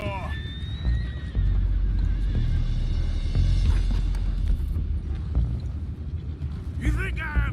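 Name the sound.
horses neighing and hooves, from a video game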